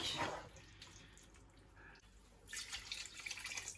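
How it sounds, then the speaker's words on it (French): Water poured into a pan of osso buco alla milanese, a soft trickling and splashing pour that fades midway and then rises again, faint and close with no talk. "Je vais mettre un peu d'eau parce que là c'est un peu sec."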